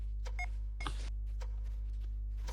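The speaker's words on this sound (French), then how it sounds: "Regarde, en fait, c'est quand le fantôme passe dessus, il bip." Electronic ghost detector in a ghost-hunting video game gives a few short, faint beeps over a steady low hum, with no talking.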